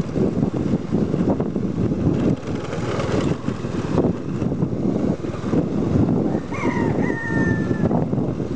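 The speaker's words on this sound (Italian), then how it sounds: "Abbiamo sentito anche il canto del gallo." Far-off rooster crowing rises near the end over strong wind buffeting the microphone and a low, rumbling background, by a river in Borneo.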